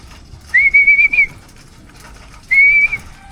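Two sustained, steady human whistles, each about three-quarters of a second long, sounded loud and near to call homing pigeons back into their loft, with faint background noise between them.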